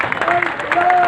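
A crowd claps at a farmers' protest against ordinances at a toll plaza near Hissowal village on Raikot Road, giving short scattered applause while someone speaks loudly over it.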